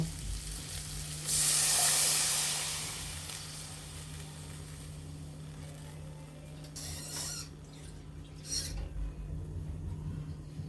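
Water poured into a pan of sizzling fried fish and spices: a loud hiss bursts up and slowly fades into a quieter, steady simmering crackle, with a few brief scraping rustles near the end and no talking.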